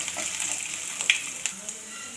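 Chana dal and small chopped pieces of ginger frying in hot oil as they are stirred, a steady close sizzle with a few brief clicks of the spoon, no talking.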